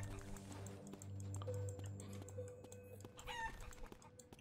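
Chickens cluck and a rooster crows in a video game, repeated clucks over a steady background hum with keyboard typing.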